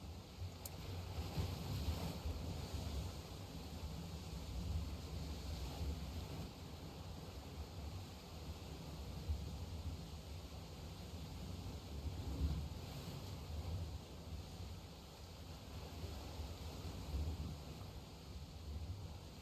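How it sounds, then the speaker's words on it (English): Ocean waves in the video game Tainted Grail: The Fall of Avalon, a steady rolling surf with a windy wash and a low rumbling swell, continuous and moderately loud with no voices over it. "Judging by the waves, the journey won't be pleasant."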